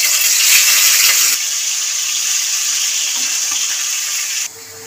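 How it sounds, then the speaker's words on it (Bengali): Amudi fish, rubbed with salt and turmeric, frying in hot oil: a loud, dense sizzle close by that eases slightly after the first second and then drops away sharply near the end. "ভেজে নেব ভালো করে কড়া করে।"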